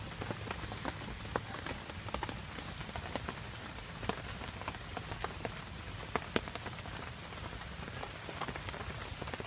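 Rain falls steadily on surfaces around a campsite on a wet camping trip, a dense, even patter of drops with scattered sharper taps, soft and continuous throughout.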